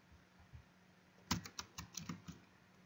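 Typing on a computer keyboard during a Linux Makefile tutorial, a quick run of about eight close, crisp key clicks after a few faint taps, with no talking.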